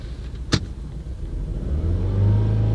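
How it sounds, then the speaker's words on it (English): Volvo car engine idling low and rumbling, then revving up into a steady louder drone toward the end, heard close at the tailpipe with a sharp click early on and no talk. "I'm revving the engine"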